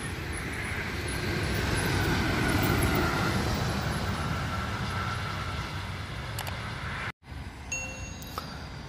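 A Rosalia Indah bus passes on the Trans Java toll road at Km 583 as a loud, close broadband roar that swells and then eases off. After a brief dropout, faint high tonal traffic sounds follow.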